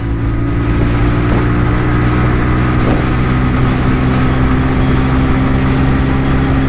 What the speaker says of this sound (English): Now let's do a top speed and also max out each gear.